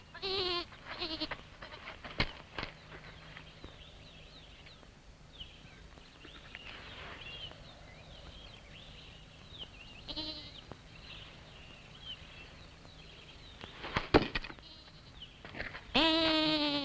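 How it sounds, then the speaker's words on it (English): Goats bleat in short scattered calls against a steady background, a couple of cries standing out briefly and moderately near. "I was right. There are goats here."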